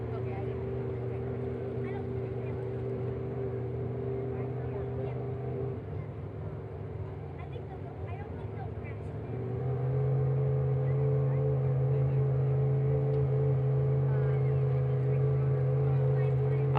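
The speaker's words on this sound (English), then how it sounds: "Got some horsepower inside of these 13-foot boats." Steady, loud engine drone from 13-foot racing boats with 413 cubic inch engines making 600 to 780 horsepower in the A400 class at an ASBR Pro Racing Series race in Port Angeles. The drone dips midway, then swells louder and holds.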